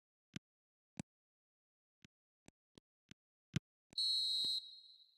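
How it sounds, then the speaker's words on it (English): A football video game referee sounds a short, shrill whistle blast for half-time, preceded by a series of faint, sharp clicks spaced across the quiet clip. "And the whistle goes for half-time"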